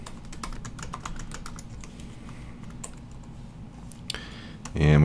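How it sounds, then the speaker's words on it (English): Fast typing on a computer keyboard, with steady close clatter of keystrokes running throughout, ending in a louder burst of noise at the end. "So let me type this out."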